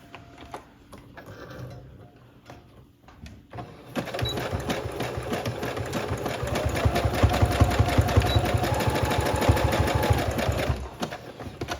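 A sewing machine stitches a short, wide zigzag bar tack on the fly of jeans, its needle chattering in a fast, steady rhythm that builds up and then stops, preceded by a few quieter starts.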